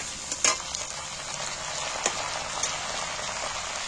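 Whole spices (cinnamon, cardamom and cloves) frying in hot oil for a chicken curry, giving a steady bright sizzle with a couple of sharp pops, fairly quiet and with no talk.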